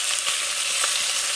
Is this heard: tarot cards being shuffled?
no